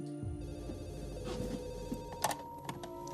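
A telephone rings with steady electronic tones throughout, fairly clear against a soft background, with no talking.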